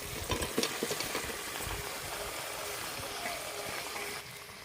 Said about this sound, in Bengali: এবার আমি এঁচড়গুলো দিয়ে আরেকবার করে কষিয়ে নেব।